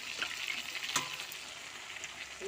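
Potatoes frying in a pan as a green chilli and ginger paste goes in, giving a steady close sizzle with a brief sharp spatter near the start and no talking.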